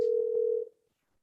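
A single steady telephone ringback tone sounds for about half a second while a call is placed, then cuts off into silence.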